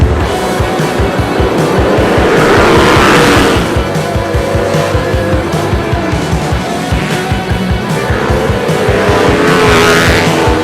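Race vehicles roar around the Daytona track in a continuous loud, pulsing engine drone, with rising and fading swells as machines sweep past close by.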